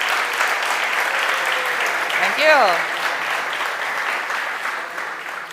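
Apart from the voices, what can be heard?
audience applause for Christina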